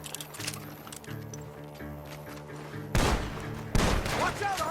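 Red Dead Redemption 2 gunfight with two loud gunshot blasts cracking out close together near the end over a tense orchestral game score, with ongoing background game noise.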